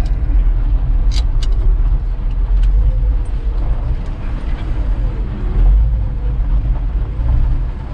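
A 1966 Ford F100 pickup truck rumbles loudly at close range while driving and braking, a continuous low engine drone with rattles and no voices.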